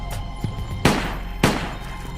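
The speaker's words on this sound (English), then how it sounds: "gunshots in the parking lot" Gunshots ring out in a parking lot during a dramatized crime reenactment: two sharp, loud reports about half a second apart stand over a steady background, with a fainter crack near the end.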